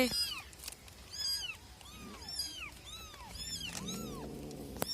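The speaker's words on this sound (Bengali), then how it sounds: "এ কি শয়তান বিড়াল রে" A cat in a Sundarban village home meows repeatedly, giving a quick series of clear, fairly close calls with short gaps between them.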